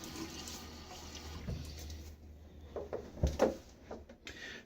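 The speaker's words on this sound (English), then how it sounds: "so water on my face" Water splashed onto a face with the hands before a wet shave, giving a few soft, close wet splashes and drips with a low hum running underneath.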